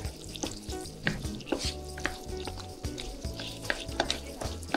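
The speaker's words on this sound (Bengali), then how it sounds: "এরপর চুলার আঁচ মিডিয়ামে রেখে পেঁয়াজগুলো কিছুক্ষণ ভেজে নেব।" Chopped onions fry over medium heat for a butter chicken gravy, making a low, steady sizzle with rhythmic stirring scrapes and light clinks of utensil against pan.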